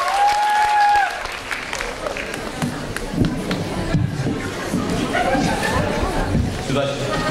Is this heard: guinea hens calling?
no